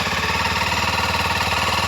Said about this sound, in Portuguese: Dá a partida do motor aí